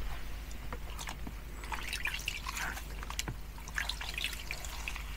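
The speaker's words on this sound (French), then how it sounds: "C'est un petit peu long à rincer un gommage avec des éponges" Wet sponges rinse a facial scrub off a face, giving soft, close dripping, trickling and squeezing water sounds with small irregular splashes over a low steady background hum.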